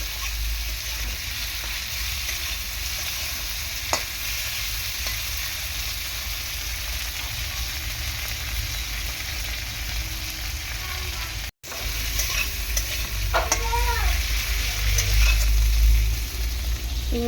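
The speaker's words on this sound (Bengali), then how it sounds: "চিংড়ি মাছটা হালকা করে উল্টে পাল্টে আমি ভেজে নেব" Prawns fry lightly in oil in a wok, giving a steady close sizzle throughout with occasional stirring scrapes and brief clicks near the end.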